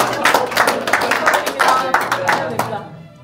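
A small group claps at a club match event, a quick burst of overlapping hand claps close by and fairly loud, trailing off after about three seconds.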